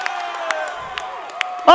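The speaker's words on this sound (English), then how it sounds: "The crowd loves it." Men's college volleyball crowd cheers and whoops in a gym, a busy wash of voices with squeaks and sharp taps that swells into a loud shout near the end.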